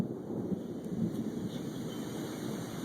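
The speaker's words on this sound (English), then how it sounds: "This storm is severe and it's going to impact my city." Severe thunderstorm with a supercell sky turning green, giving a steady roar of wind and rumbling thunder that fills the scene continuously, with high insect-like tones running above it.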